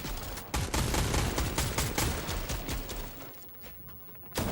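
Rapid gunfire in a video game match, dense bursts of automatic shots rattling almost continuously and loud, then briefly easing before another shot at the end, with no talk.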